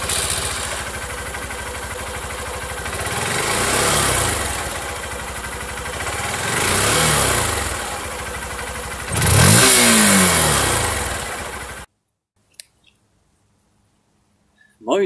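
Honda CB 125 F motorcycle exhaust revving in three rising-and-falling swells over a steady idle, the last rev sharpest and loudest, then the engine stops and near silence follows.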